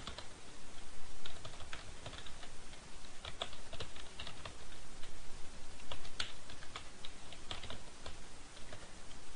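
Code is typed on a computer keyboard, a quiet, close run of irregular key clicks and taps that continues with brief pauses throughout.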